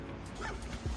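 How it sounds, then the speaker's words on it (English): Dogs barking and yipping in the distance on a walk in Albania, a brief faint burst of yelps. "You guys might be able to hear the barks behind me."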